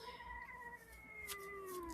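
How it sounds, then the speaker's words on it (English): Domestic cat meowing in a long, drawn-out caterwaul with wavering pitch, close but fairly quiet, alone without talk. "Sorry, my cat, I don't know what's going on with her"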